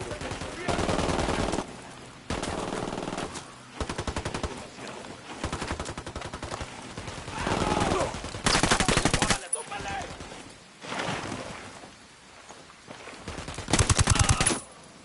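Machine-gun fire in the video game Tom Clancy's Ghost Recon comes in loud, sustained automatic bursts with short pauses between them, and voices are faintly mixed in.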